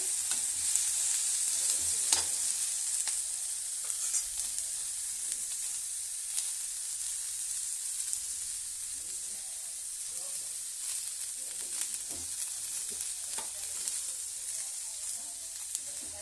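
Onions fry in a pan for an onion chutney. A continuous close sizzle is broken by scraping stirs at irregular intervals, with no voices.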